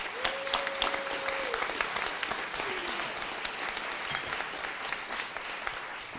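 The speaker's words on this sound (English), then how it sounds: "Let's give one round of applause to the panelists." A summit audience of housing leaders at Dominican University applauds the panelists with steady, dense clapping that fills the room throughout, with no break.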